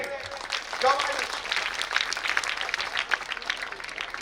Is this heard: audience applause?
yes